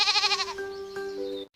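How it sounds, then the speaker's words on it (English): A goat lets out a single wavering bleat, close and clear, lasting about a second and a half, with no other voices. "This is a goat, and the baby is called a kid."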